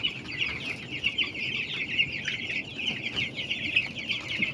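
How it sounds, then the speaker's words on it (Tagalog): Flock of 12-day-old poultry chicks on a poultry farm, a dense continuous chorus of high peeping and chirping from many birds at close range, steady and unbroken with soft clucking-like calls underneath. "Ang aming sisiyo."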